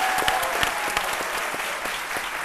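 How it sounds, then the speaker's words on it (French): Loud audience applause at a tribute show, dense sustained clapping from a crowd with a few sharper individual claps standing out. "Et que je vous demande d'applaudir très fort."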